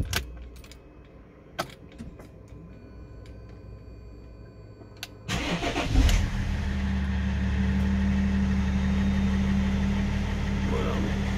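Vehicle engine cranking to a start after a few faint clicks and key jingles, then settling into a steady, close idle that continues to the end.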